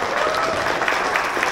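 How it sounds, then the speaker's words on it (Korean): A brief burst of crowd applause at a gathering welcoming young people from Daegu, fairly loud and continuous with some scattered louder claps. "광주의 청년들 환영의 의미에 큰 박수를 좀 보내주시면"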